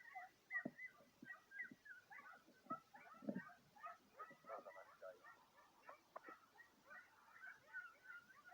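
Distant hunting dogs on a hare's scent yelp and bay in a rapid, continuous chorus, faint and irregular, carrying across open ground.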